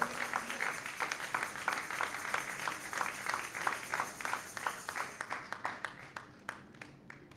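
A church congregation claps in a steady, even rhythm to acclaim the Lord, quiet and somewhat distant, the beat slowing and thinning out toward the end.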